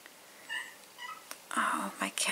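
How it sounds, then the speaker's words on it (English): A house cat meows to be let outside, giving a few short, close, soft calls with brief pauses between them. "Whenever he meows, I need to open the door."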